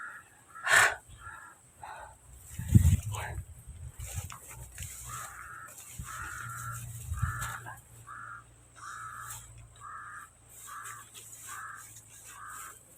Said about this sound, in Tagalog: Palagi akong sinusundan ng uwak mga kaidol